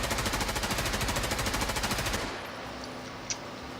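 Automatic gunfire in Escape from Tarkov while testing a weapon's recoil, a rapid rhythmic burst of about two seconds of evenly spaced shots, then a quieter tail with one faint click.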